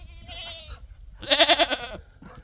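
Goats bleat on a small off-grid homestead, a shorter call followed by a loud, wavering, drawn-out bleat close by, with no talking.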